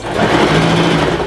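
A sewing machine runs in a quick steady buzz, stitching back and forth along a fabric side seam, loud and close with no talking.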